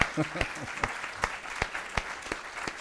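Scattered, sparse hand claps from a church congregation during a sermon, about eight separate claps spaced irregularly over a quiet room with faint murmuring.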